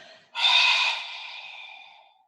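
One deep breath during a yoga and osteopathy session: a sudden, close, airy exhale that swells and then slowly fades over about two seconds, heard alone.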